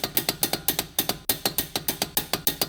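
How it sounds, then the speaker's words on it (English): A torque wrench ratchets rapidly while tightening a ball joint bolt on a 2006 Subaru Impreza WRX, a loud, close run of about twenty evenly spaced metallic clicks in quick rhythm with one brief pause. "Grab your torque wrench and set it to 75 foot-pounds or 100 Newton meters."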